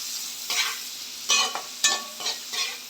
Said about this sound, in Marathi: कांदा थोडा परतून घेते.